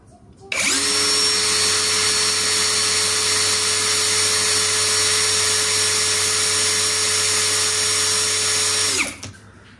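A Tankmor or MLHY rotary tool motor starts up and runs at its second speed setting, a loud, steady high-pitched whine with a strong constant tone that holds for several seconds before winding down and stopping.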